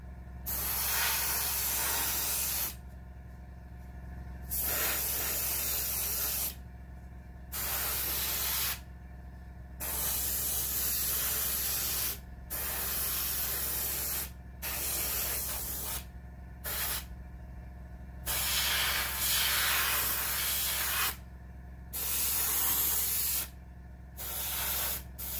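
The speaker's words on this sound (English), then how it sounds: "Don't ask me why I'm priming the inside, I've no idea." Short, loud bursts from a spray can hiss over and over as primer is applied to the inside of a Dragon StuG III Ausf.C/D plastic model kit, separated by quiet gaps and heard over a low steady background hum.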